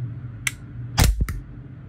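A WE G17 G3 airsoft pistol, unsuppressed, fires several sharp cracking shots in quick irregular succession, close and loud, each with a brief mechanical clack, with no speech.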